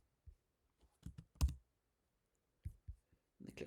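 Several sharp mouse clicks while saving a template in custom academic report-card software, scattered in small bursts across a quiet background with no talk.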